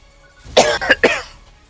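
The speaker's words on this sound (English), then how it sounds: "Just cough. It's my chronic cough." A man with a chronic cough lets out a close, loud burst of three harsh coughs in quick succession, with quiet before and after.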